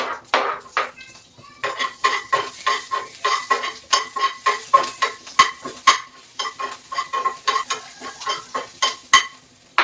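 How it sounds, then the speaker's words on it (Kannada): Onion and tomato are stirred into a hot tempering in a pan, with rhythmic, close scrapes of a spoon against the metal over a light sizzle, repeating steadily throughout. "ಈಗ ಈರುಳ್ಳಿ ಮತ್ತು ಟೊಮೊಟೊ ಹಾಕ್ತಾ ಇದ್ದೀನಿ."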